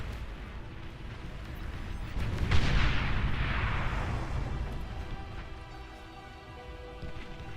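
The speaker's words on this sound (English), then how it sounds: "The carpet bombing on the front line" Carpet bombing on a front line in the real-time strategy game Beyond All Reason: a dense, rumbling wash of overlapping explosions swells to a loud peak, then settles into a sustained low roar, with no voices.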